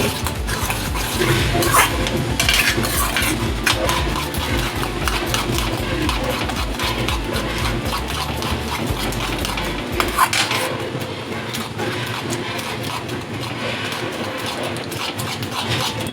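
Beaten egg cooks with onions in a hot pan for Thanjavur-style pea rice, stirred steadily with a utensil scraping the pan over a continuous close, moderate sizzle; no one speaks.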